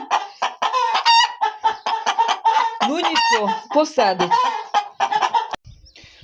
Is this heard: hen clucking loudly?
yes